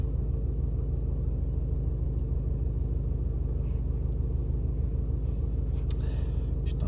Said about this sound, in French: J'ai démarré la voiture pour rien